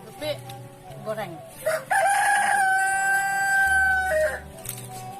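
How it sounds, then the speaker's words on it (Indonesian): A rooster crows loudly in a long, drawn-out call, with other chickens clucking faintly around it. "kalau di sini banyak sekali ayam"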